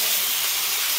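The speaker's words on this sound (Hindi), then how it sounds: "पहले अच्छे से चिकन को भुनूंगी" Chicken browns in an iron kadai with no masala added yet, a dense, loud, continuous hiss of sizzling that stays even and close throughout the short stretch, with no talking over it.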